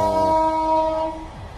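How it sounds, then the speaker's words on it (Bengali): A train passes at a distance, its horn sounding one sustained tonal blast that fades out, heard alone against quiet outdoor background near a village temple. "দূরে দেখতেই পাচ্ছেন ট্রেন যাচ্ছে।"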